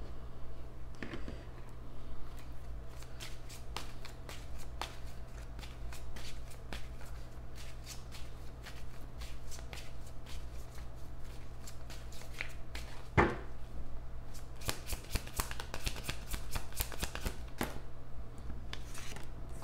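Tarot cards being shuffled and pulled, with repeated crisp riffling and card snaps over a steady low hum, occasional sharper flicks, and no talking.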